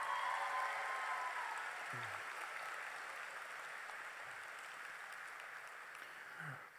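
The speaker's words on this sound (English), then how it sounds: "let us give you a round of applause" An audience applauding at a Pigeon Forge High School graduation ceremony, with sustained clapping from many hands that starts strong and slowly thins. A few soft low thumps sound beneath it.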